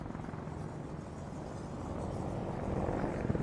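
Steady rotor and turbine roar from a pair of Apache attack helicopters flying at a VE Day air show, a broad continuous drone that swells slightly louder toward the end, with no voices over it.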